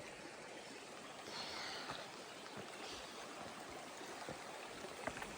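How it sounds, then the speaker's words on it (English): Steady flowing creek water at a trail creek crossing, a continuous close rush and babble with small splashy accents, no voices. "starting the morning off with this creek crossing"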